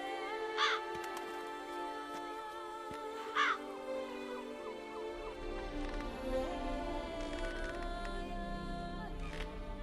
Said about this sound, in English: There's crows all over the place